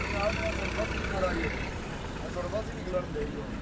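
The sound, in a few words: Millat tractor engine running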